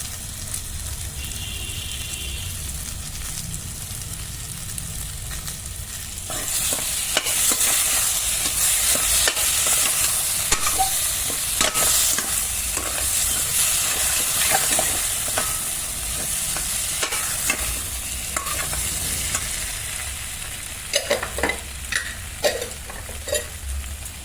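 A pan of food being fried and stirred after crushed cardamom is added, giving a steady sizzle that grows louder partway through, with a spatula scraping and clicking close by and no talking.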